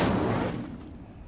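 Fire spell cast in Hogwarts Legacy: a single loud whooshing burst at the start that fades away over about a second.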